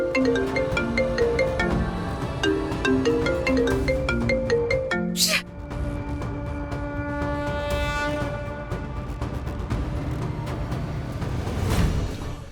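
A melodic phone ringtone plays loud and close, a repeating electronic tune that cuts off abruptly, then gives way to a sustained droning tone.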